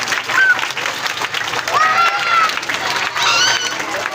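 An audience at a school annual prize-giving ceremony claps steadily to welcome a guest, with a dense wash of applause and a few scattered whistles and voices over it.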